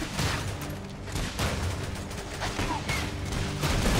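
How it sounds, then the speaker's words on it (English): Bursts of gunfire from combat units in the mobile strategy game Command & Conquer: Rivals, dense overlapping shots and booms running continuously over a busy game soundscape. "Let's gun him down!"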